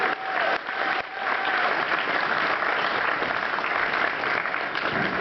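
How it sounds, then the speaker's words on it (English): Sustained audience applause at a live science show at a fan convention, a thick, even roar of many hands clapping that swells after the first second and holds. "ladies and gentlemen, please give our two victims a big round of applause."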